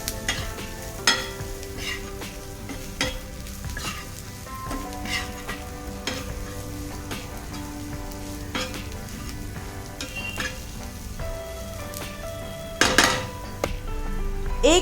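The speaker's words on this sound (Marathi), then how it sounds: "हे सगळे जिन्नस छान मिक्स करून घ्यायचे." Fried onion with turmeric, red chilli powder and salt is stirred in a pan for a Maharashtrian vegetable dish, a steady sizzle running under repeated scraping and clinking of a spoon against the metal, close and with no talking.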